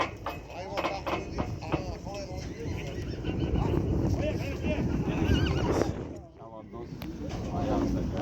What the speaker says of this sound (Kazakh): Көкпар шауып жүрген жылқы.